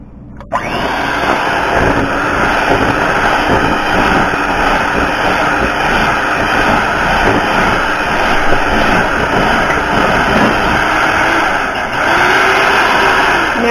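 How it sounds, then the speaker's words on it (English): An electric stand mixer beats cookie dough in a bowl, a loud, steady motor whine with churning and rattling that runs without a break, close by and with no talk over it. "in a bowl, and we're going to mix it until they're well incorporated"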